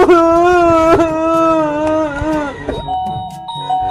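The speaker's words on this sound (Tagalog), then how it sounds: "sino pumito ng doorbell?" A doorbell chimes indoors, playing a loud, sustained melodic tone sequence that shifts pitch a few times, with faint room noise underneath.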